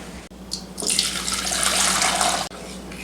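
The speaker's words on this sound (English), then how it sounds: "Let's pour all the broth out of the crock pot." Broth poured from a slow cooker crock pot splashes steadily for a few seconds, a loud continuous liquid rush close by with no voices over it.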